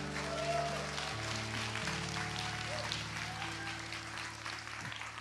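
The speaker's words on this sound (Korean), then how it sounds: "큰 박수로 환영하겠습니다" A church congregation at an ordination service applauds in welcome as a pastor is introduced, a sustained round of clapping heard over held organ or keyboard tones, fading slightly toward the end.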